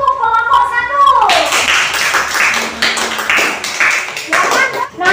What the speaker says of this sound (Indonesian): Kasih tepuk untuk kelompok 1.